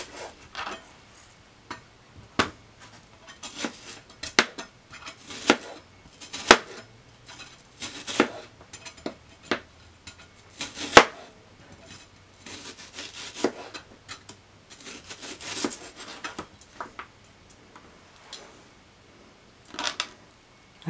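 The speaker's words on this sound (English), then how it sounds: "I have my red onion, and I'm moving on to cutting that up. I want that cut in thin slices also." Knife slicing a red onion into thin slices on a cutting board, a series of crisp, quiet chopping taps and scrapes at an uneven rhythm, close and alone.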